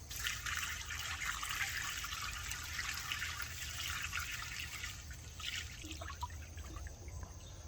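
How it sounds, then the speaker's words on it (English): Water pours steadily into the radiator of a 1936 Farmall F30 tractor, a faint continuous trickle and splash that holds at an even level throughout, with no one speaking. "let me get this water in this radiator"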